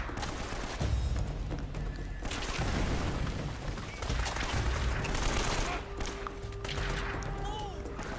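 AK rifle fire in the action game Uncharted: Drake's Fortune, with sustained bursts and scattered shots mixed with thuds and mechanical clatter, steady and moderately loud throughout under a busy combat backdrop.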